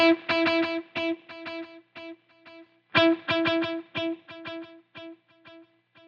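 A single guitar note played repeatedly through a dual delay effect, each pluck followed by a string of sustained echoes that die away, then struck again about three seconds later with the same decaying repeats.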